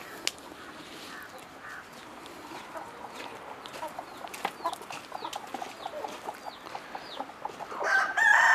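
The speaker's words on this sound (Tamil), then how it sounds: "13, 14, 15, 16 கோழிகள் இந்த இடத்துல இருக்குது." Chickens cluck in a coop holding about sixteen birds, soft scattered clucks and calls near and far over a quiet background, rising into a louder squawk at the end.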